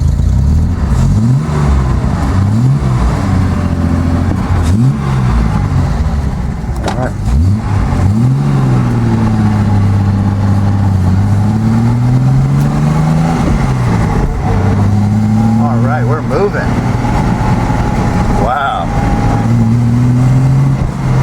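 A Datsun 240Z with its carburetor stuck open revs loud and unsteady, engine pitch rising and falling in long surging sweeps, with occasional clunks and a person talking over it.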